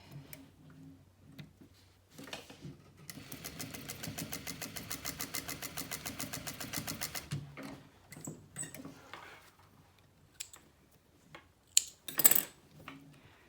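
A sewing machine runs a 3/8 inch seam along handbag panels, a fast even mechanical ticking stitch for several seconds, framed by quieter handling and a couple of sharper knocks near the end.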